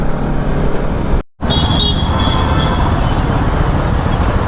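Dense roadway traffic surrounds a rider on a Bajaj NS200 motorcycle: a steady, loud wash of engine and road noise with a constant wind rush. It is broken by one very brief dropout near the start, and no one talks.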